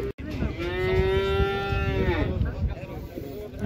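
A cow at a livestock market lets out one long, loud, close moo that lasts a couple of seconds over background market noise.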